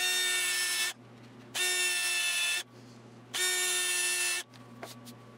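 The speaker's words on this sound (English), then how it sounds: "countersink all the holes I just drilled" A drill with a countersink bit runs in three bursts of roughly a second each, separated by short quiet gaps, grinding countersinks into drilled holes in wood up close.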